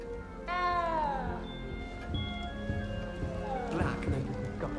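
A cat in the video game Hogwarts Legacy lets out one drawn-out, falling meow near the start, followed by steady game ambience with soft sustained tones and a few faint clatters.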